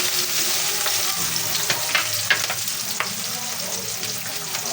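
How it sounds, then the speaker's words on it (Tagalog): Bell pepper sizzles in a frying pan while liver and gizzard caldereta cooks, a steady crackling hiss with scattered pops and faint stirring scrapes, close and even throughout. "Lalagay na po natin yung ating unang bell pepper."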